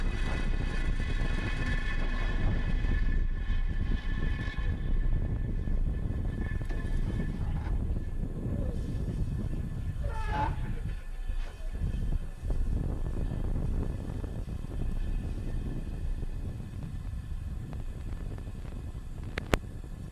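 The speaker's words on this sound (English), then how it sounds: "Liftoff of the Falcon 9." Falcon 9 rocket lifting off from Vandenberg Space Force Station, a distant, sustained low rumbling roar that fills the whole stretch with broad wind-like noise and no voices.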